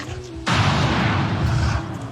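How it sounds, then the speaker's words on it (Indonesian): A rifle shot is fired at a bear in a film: one sudden, loud blast that cuts in abruptly and rolls on as a dense, booming roar for over a second before dropping back to a low hum. "Lalu suara tembakan terdengar."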